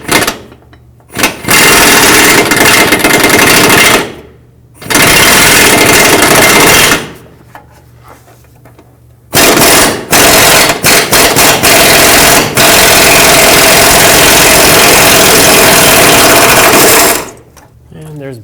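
A power tool, likely an impact wrench, works on a sway bar bracket bolt of a 2005-2009 Chevy Equinox. It runs in loud, rapid rattling bursts separated by brief silences, and someone speaks between the bursts.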